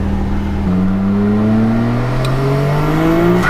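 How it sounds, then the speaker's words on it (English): Nissan Skyline GT-R R34 V-Spec II turbo engine revving on launch, a loud steady drone with a rising pitch that climbs through the whole stretch, heard close with no talking. "And then like the sound of a turbo going."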